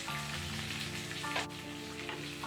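Chopped onion sizzling in hot oil with cumin seeds over medium heat for jeera rice, a steady, moderately loud frying hiss with light stirring over soft background music.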